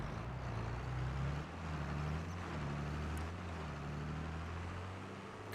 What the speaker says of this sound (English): And here's our neighbor's tractor.